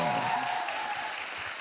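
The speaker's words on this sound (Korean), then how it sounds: "다시 한번 좀 환영의 박수 좀" Studio audience clapping in welcome of a guest on a Korean talk show, a steady, moderately loud patter of applause that tapers slightly over a short stretch, with a faint voice underneath at the start.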